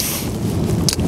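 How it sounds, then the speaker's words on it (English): Strong wind on an Irish beach buffets the microphone with a loud, steady, low roar for about a second, with a brief higher hiss near the end. "It's so windy."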